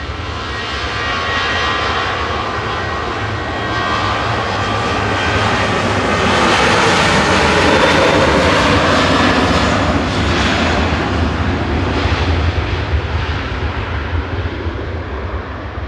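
Big jet airliners at Manchester Airport roar loudly and steadily, the engine noise swelling as a plane draws nearer and then slowly easing off, with no voices over it.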